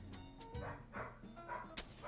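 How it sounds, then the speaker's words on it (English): A dog gives a few short, yippy barks and whimpers at moderate distance, spaced irregularly over a quiet indoor background. "Oh, dog barking."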